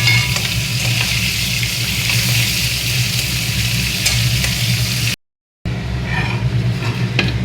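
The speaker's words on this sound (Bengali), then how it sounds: "লেগ পিসগুলোকে ভেজে নিচ্ছি ভালো করে।" Meat leg pieces fry in a hot pan, a loud steady sizzle with occasional stirring scrapes; the sound cuts out briefly near the end, then the frying resumes.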